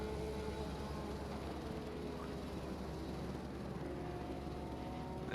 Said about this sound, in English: you can really hear that Aston Martin topping out those revs